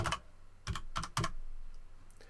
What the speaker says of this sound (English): just start typing what you want